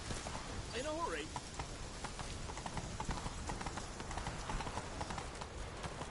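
Roach, the horse in The Witcher 3, galloping with rapid clip-clop hoofbeats close by, mixed with game sounds and a brief whinny-like tone, while someone talks over it.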